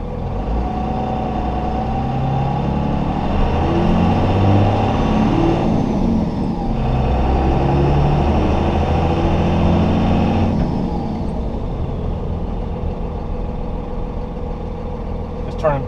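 A Cummins-swapped Chevrolet Silverado 2500HD pickup pulls through its gears, a loud, steady diesel drone with a brief dip around the shift points, heard close from inside the cab.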